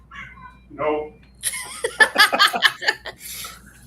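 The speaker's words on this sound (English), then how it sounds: "Cat's giving sass." A cat meows a few times up close, a short rising call, then laughter and lively talk break out over a burst of sound around it.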